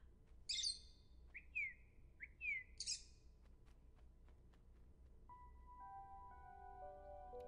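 A bird in the video game Virginia gives a few sharp, bright chirps and squawks in quick pairs, close by, followed by faint game tones over a quiet background.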